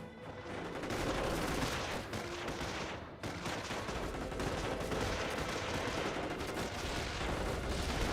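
Artillery and gunfire from the World War II strategy game Company of Heroes, a dense continuous barrage of blasts and rattling shots, loud and unbroken apart from a brief dip in the middle.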